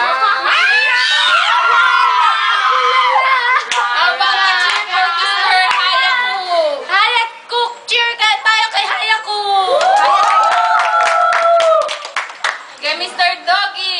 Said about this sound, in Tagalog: Ay, sigawan to.